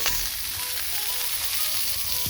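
Steady, loud sizzling of African pompano frying in a hot pan, a continuous crackling hiss with no voices.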